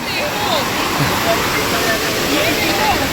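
Palasdari waterfall roars steadily, a dense continuous rush of falling water, loud and close, with no talking.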